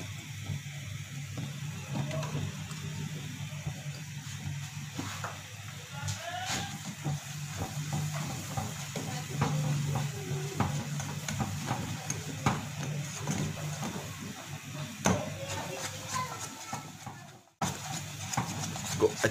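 Quiet scraping and soft clinking of a spoon stirring egg halwa with coconut in a pan, uneven strokes over a low sizzle, with occasional speech in the background.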